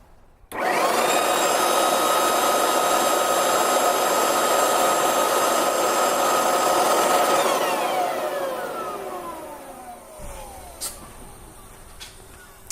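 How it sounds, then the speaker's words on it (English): A leaf blower blasts air toward the intake duct of an E9X BMW M3 with an Eventuri intake, starting abruptly with a loud, steady whine and rush, then spinning down with a falling pitch, followed by a few faint clunks. "We're just going to show you the wind speed coming from the leaf blower before it enters the duct."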